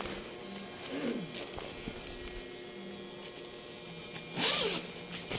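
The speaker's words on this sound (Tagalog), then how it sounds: "May zipper siya sa loob." A zipper on a JBEE heavy duty raincoat suit is pulled in two quick raspy strokes, close and distinct over a faint steady hum.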